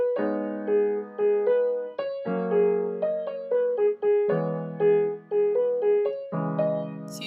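Piano playing a song with an even, steady left-hand accompaniment under a repeating right-hand melody, clear and close, phrases separated by brief breaths, no voices.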